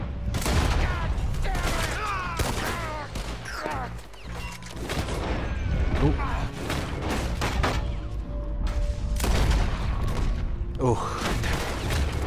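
Gunfire in Red Dead Redemption 2 at night: a dense, loud barrage of shots, booms and crashes that runs through the whole stretch. A voice briefly exclaims once over the chaos.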